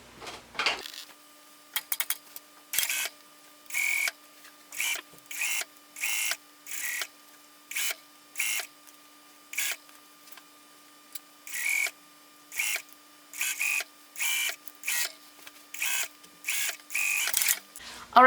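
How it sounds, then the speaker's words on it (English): A sewing machine sets a sleeve into a jacket at a 5/8-inch seam, running over pins in repeated short bursts of rapid stitching separated by brief pauses, close and clear over a faint steady hum. "I'm gonna go ahead and sew that sleeve in real quick"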